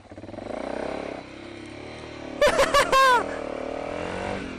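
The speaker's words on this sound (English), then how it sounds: "This is a heavy bike in deep gravel." A heavy motorcycle engine drones steadily through deep loose gravel on a rough highway section, with a brief burst of clattering and scraping midway as the bike lurches, close and continuous with no talk.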